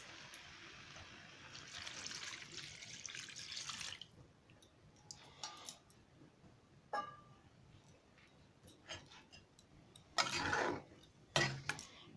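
Water poured into soybean curry in a pan makes a steady splashing rush for about four seconds, followed by quieter clinks and two short, louder splashes near the end.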